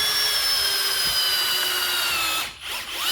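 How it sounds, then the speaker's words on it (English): Cordless drill whines steadily at high speed boring a 4mm pilot hole into wood, the loud motor tone holding constant before briefly dipping near the end. "I'm gonna drill I think this is a 4mm pilot hole."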